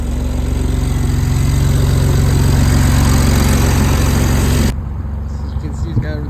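A 2008 BMW 335i engine runs at a rough, uneven idle with a steady close drone for several seconds before the level drops sharply, leaving a quieter, thinner engine hum at the end.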